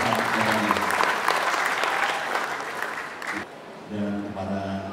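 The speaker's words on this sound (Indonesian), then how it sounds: "Tepuk tangan juga untuk Pak Rahmat" An audience applauds steadily for Pak Rahmat at a public lecture hall event, the dense clapping fading near the end as a voice and faint music come in.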